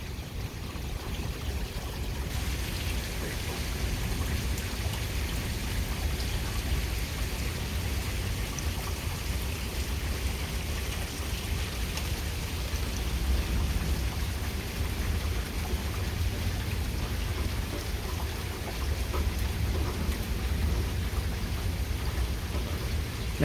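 A thunderstorm with high wind gusts pours heavy rain in a dense, steady roar that fills the whole stretch, with low rumbling underneath and no voices.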